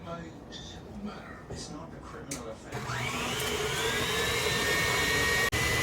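An electric mixer runs on high through chocolate chip cookie dough, a rough whirring that settles into a loud, steady high-pitched whine after a few seconds and carries on with barely a break.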